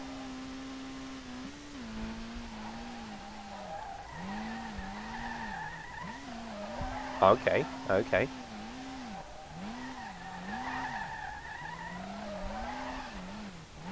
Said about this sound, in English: Let's see how it will handle the jump drift.